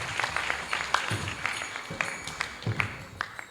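Audience applause at a college graduation ceremony, a steady patter of many hands clapping at moderate distance, continuing for a few seconds without speech.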